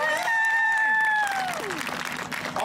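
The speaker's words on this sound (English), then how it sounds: "Give yourself a round of applause." A graduation audience applauds with clapping and crowd noise, while a voice speaks loudly over it through a sound system and crowd cheers swell in the background.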